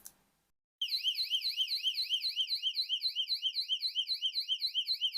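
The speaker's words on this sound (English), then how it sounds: "if I turn this on manually, we're going to get strobes and a Siren" An IQ 4 alarm panel's siren kicks in after a brief quiet, a loud, shrill electronic wail that sweeps up and down rapidly and steadily without pause.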